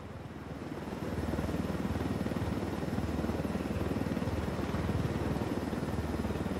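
A helicopter flies in the Ghost Recon Wildlands video game, its steady rotor chop and engine roar loud and close, swelling after the first second and holding constant, with no voices.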